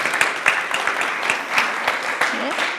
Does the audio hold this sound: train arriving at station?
no